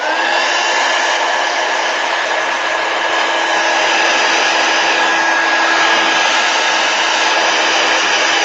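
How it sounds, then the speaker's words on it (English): A heat gun blows steadily and loudly at close range over wet watercolor paint, a constant whooshing roar with a faint whine that holds unchanged throughout, with no talking. "I think I'm going to hit it with a heat gun right now"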